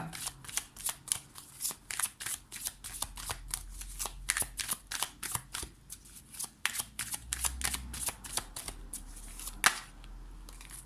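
Tarot cards are shuffled and drawn in a quick, crisp run of riffling snaps and flicks, close and continuous over several seconds with no speech.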